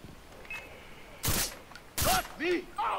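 Gunfire in the Far Cry 3 video game comes as three or four sharp, loud bursts over a couple of seconds, with a voice speaking between shots.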